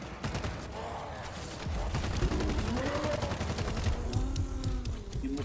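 Repeated gunfire from the video game World War Z, with shots ticking steadily through the clip, sits under a dense, chaotic game mix of groans and background noise at moderate level.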